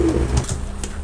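Teddy pigeons of Oman bloodline cooing, a soft low coo repeated a couple of times at close range, with no talk over it.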